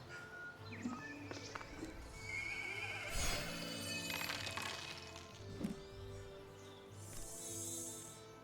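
A horse in the video game Popup Dungeon neighs among game effects, with a whinny near the start and other bursts and clip-clop sounds scattered through the mix.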